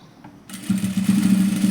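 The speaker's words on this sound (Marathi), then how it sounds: "ह्याच प्रकारे हा दुसराही शिवून घ्यायचा." A sewing machine stitches fabric for a handmade brooch, its motor starting after a brief quiet moment and settling into a steady, loud, close whirring hum.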